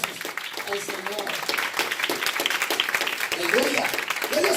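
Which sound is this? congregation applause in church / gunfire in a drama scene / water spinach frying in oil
congregation applause in church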